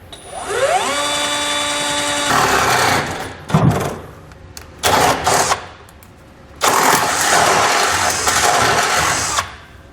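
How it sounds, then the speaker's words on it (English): A power drill spins up with a rising whine, then bites through a metal truck bed floor in several loud, grinding bursts separated by short pauses. "I'm going to come right against the bottom of the floor, and we're just going to drill straight through."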